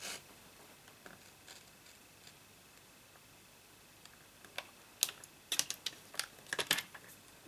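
Cardstock is cut on a paper trimmer with quiet clicks and slides, then a cluster of sharp, close snipping and scraping strokes near the end.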